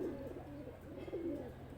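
Pigeons cooing softly, a low repeated throaty coo from a loft of flying pigeons, faint and steady without any talk.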